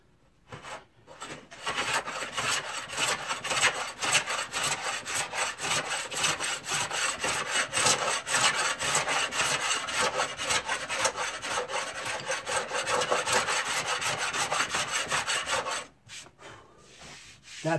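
A skew chisel takes a heavy cut into spinning wood, producing a continuous rough, rasping scrape with a rapid fluttering texture. It runs steadily and close for about fifteen seconds, then stops abruptly, with no talking.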